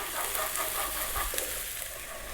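Onion, garlic and ginger fry over really high heat in a pan, giving a steady close sizzle with faint crackles.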